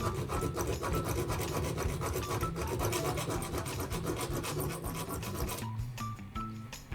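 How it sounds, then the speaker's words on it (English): A hand saw cuts a notch into a stuck bathtub drain with a broken crossbar, rasping back and forth in a fast, steady rhythm of close, loud metallic strokes. "I use a saw to make a notch."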